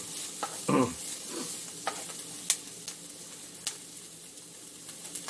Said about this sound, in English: now I'm going to saute these for just a minute or two here